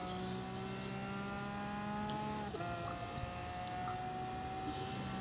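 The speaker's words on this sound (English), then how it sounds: "Car sounds nice." A race car engine in Gran Turismo Sport drones steadily at high revs, with a brief dip and shift midway, then holds its tone. The sound is continuous, fairly quiet, and has no talking.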